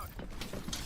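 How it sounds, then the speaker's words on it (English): A weapon reload in a video game: a quick, quiet run of mechanical clicks and ratcheting clacks, close up and alone. "Reloading."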